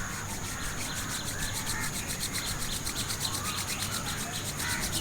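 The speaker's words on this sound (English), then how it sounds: "just rub your both hands together like this" Two palms rubbed briskly together, a close, steady, soft swishing friction with a faint rhythmic back-and-forth pulse that runs throughout, with no talking.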